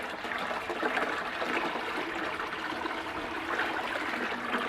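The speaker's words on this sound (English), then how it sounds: "pour it into the same section here. As you see, water spills over into the refugium area." Water poured from a bucket into a 20-gallon DIY aquarium sump, splashing and spilling steadily over into the refugium section, a continuous trickling gush with no voices.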